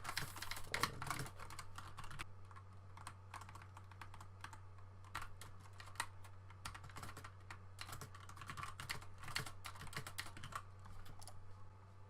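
Rapid, steady typing of code on a computer keyboard, close and clear, with dense clicking keystrokes running throughout over a constant low electrical hum, no voices.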